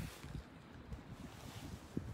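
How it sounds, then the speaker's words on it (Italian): Gusty wind outdoors after rain, buffeting the microphone in a steady low rumble with a sharper gust near the end, no voices over it. "ci sono delle folate."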